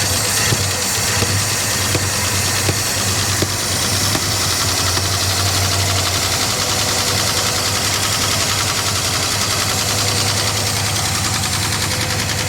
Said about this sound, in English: we'll just let it idle for a little bit